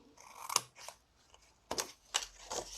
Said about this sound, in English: cut that away